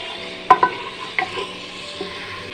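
Chicken lightly frying in a handi, with a steady soft sizzle broken by a few sharp stirring clacks and scrapes near the start, close and moderately loud.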